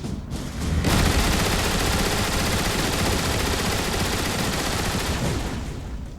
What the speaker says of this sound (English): he of course comes equipped with his ion displacer machine gun turret